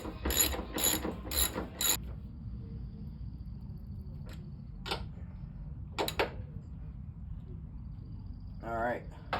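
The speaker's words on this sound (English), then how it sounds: "we can now get these 3 top bolts tightened. So that's going to be a 14mm socket" A ratchet with a 14mm socket tightens the three top ball joint bolts on a 1981 Toyota Celica, giving a quick burst of close clicking, then scattered single clicks, with a brief voice near the end.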